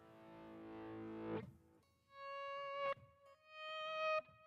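Electric guitar played through an amp with a distortion effect switched on: a thick, sustained distorted chord rings and cuts off, then two cleaner swelling notes fade in and hold, close and alone with no talk.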